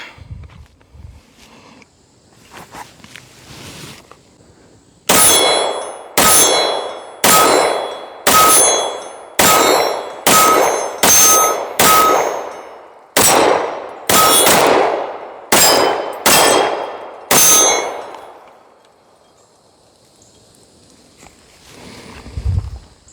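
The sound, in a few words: Canik TP9 Elite Combat pistol being fired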